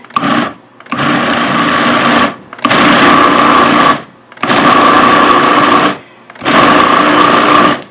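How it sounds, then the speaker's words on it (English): A food processor pulses pumpkin into a puree in four loud, steady whirring bursts, each lasting about a second and a half, separated by short silent pauses. "we're just going to pulse it until we get the puree that we're looking for"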